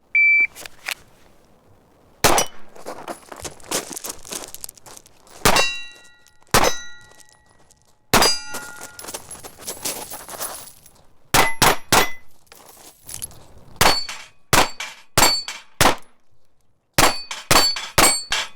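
Sharp metallic clangs ring out from handgun rounds striking steel targets in a timed shooting drill, arriving in quick bursts separated by short pauses, each hit bright and ringing, with no talking over them.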